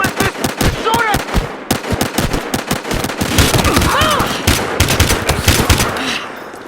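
Rapid bursts of automatic gunfire fill a Battlefield Hardline firefight, dense loud cracks in quick irregular volleys through the whole stretch, with shouted voices mixed in beneath the shooting.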